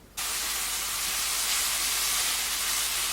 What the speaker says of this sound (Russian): Обжариваем до золотистого цвета